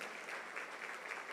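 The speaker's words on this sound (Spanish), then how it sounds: "Le podemos dar un fuerte aplauso al Señor por esta pareja que nos acompaña." A church congregation claps steadily and densely, a sustained wash of many hands applauding with no voices over it.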